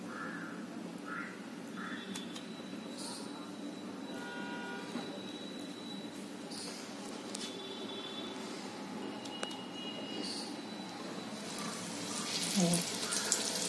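Masala-coated fish fries in oil on a hot tawa, giving a continuous soft sizzle that grows slightly louder near the end, heard under someone talking.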